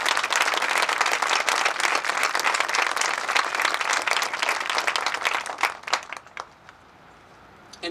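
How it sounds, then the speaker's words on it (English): Applause from the audience at an 8th grade graduation ceremony, a dense, loud, sustained round of clapping from a large crowd that thins out and tapers off toward the end. "If I could have a good round of applause for Mr."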